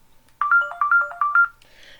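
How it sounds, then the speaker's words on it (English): A mobile phone ringtone plays a short, bright, repeating electronic melody in three quick bursts, clear and fairly close against an otherwise quiet room. "That's my phone going off."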